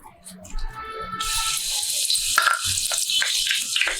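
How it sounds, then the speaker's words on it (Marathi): A bay leaf drops into hot oil and ghee for a chicken masala tempering, starting with a brief tonal clink before a loud bright sizzle that keeps crackling steadily. "आता तेल आणि तूप चांगलं गरम झालेलं आहे तर त्यामध्ये हे घालूया बिर्याणीचं पान"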